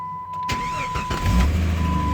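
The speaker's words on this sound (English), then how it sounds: "We're gonna turn on this truck right here." A 1996 Jeep Grand Cherokee Laredo cranks briefly and catches, its engine settling into a steady, close idle, with a faint high electrical whine running throughout.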